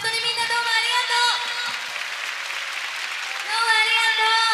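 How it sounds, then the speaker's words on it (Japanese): Applause from a countdown concert audience, a broad hiss of clapping running under a singer's voice, which drops away mid-clip and returns near the end. "メンバー、そしてダンサー、大きな拍手お願いします。"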